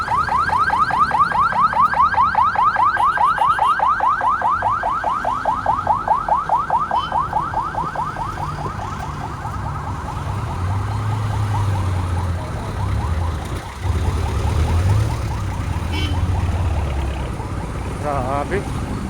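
A rapid warbling ambulance siren wails loudly and repeatedly amid heavy traffic engine noise in the Philippines, with occasional voices.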